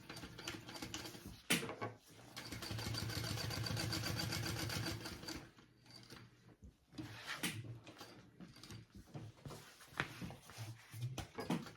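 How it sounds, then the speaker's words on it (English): A sewing machine top stitches down each side of gusset pieces, a close rapid mechanical whir in a sustained run, then shorter stop-start bursts with handling clicks and fabric shuffling between. "now I'm gonna top stitch down each side of my gusset pieces"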